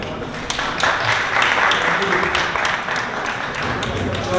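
An audience at a Sankranthi celebration in Niagara applauds: dense, steady clapping fills the whole stretch at fairly close range, with a brief louder swell near the start.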